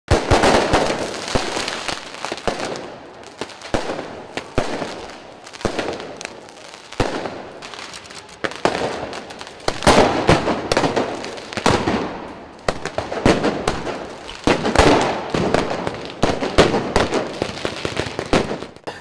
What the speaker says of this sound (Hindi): नकाबपोश प्रदर्शनकारियों ने पुलिस पर आतिशबाजी और पटाखों से हमला किया।